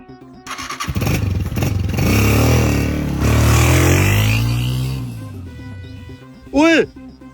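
A motorcycle is stolen in a cartoon. Its engine kicks into life, roars loudly, and revs up and down as it rides away, fading before a brief sharp burst near the end, with voices mixed in.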